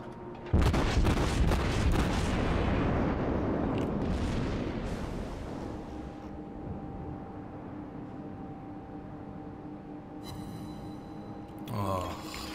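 The German cruiser Admiral Hipper fires a naval gun salvo in World of Warships: one loud, close boom that rumbles away over several seconds, followed by quieter game hum and a few small clicks near the end.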